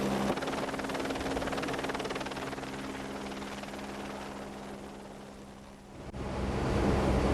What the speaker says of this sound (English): the aircraft departs clear of the ship